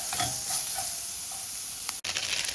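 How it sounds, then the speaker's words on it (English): Bell peppers sizzle steadily in a hot pan, with a bright, hissing crackle and occasional scraping stir sounds. Nobody speaks. "We're going to stir fry the bell peppers"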